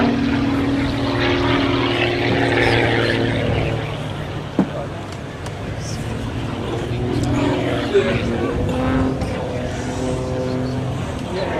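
A Pitts Special S2-S biplane performing an aerobatic display at an international air show, its propeller engine droning steadily and loudly throughout with a shifting pitch, and a voice talking over it.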